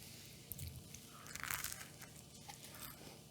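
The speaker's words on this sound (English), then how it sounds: "Yeah, we'll taste it with a little toast." Toast spread with cinnamon apple jelly is bitten close up, giving a quiet crunch with crumbly crackle and faint chewing over a few seconds.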